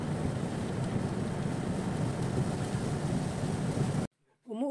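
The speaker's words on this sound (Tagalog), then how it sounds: "Pabugso-bugso nga ang ulan." Dense, steady hiss of heavy rain pours down for several seconds, then cuts off abruptly, followed by a brief voice.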